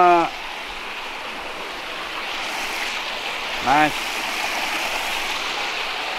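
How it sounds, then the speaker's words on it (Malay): A river rushes beside a lodging room as a steady, broad roar of flowing water that fills the background throughout, while people talk briefly over it. "So yang bestnya dia sini ada bunyi sungai tu"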